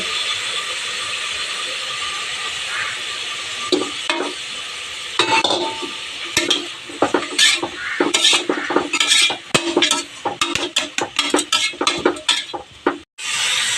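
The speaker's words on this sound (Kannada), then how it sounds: "ಸಿಗಡಿ ಫ್ರೈ ಮಾಡಿದಂಥ ಎಣ್ಣೆಯನ್ನು ಹಾಕಿ ಮಿಕ್ಸ್ ಮಾಡಿ" Prawn-frying oil is stirred into a prawn biryani mixture in a pot, a constant sizzle joined by a quick run of metal spoon scrapes and clanks that grows busier toward the end, close and without speech.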